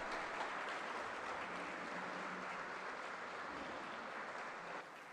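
A large audience at a lecture series session applauds in a steady, dense wash of clapping that holds evenly, then drops slightly in the final moment.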